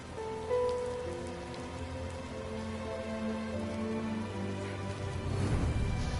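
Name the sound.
rain in the video game Rime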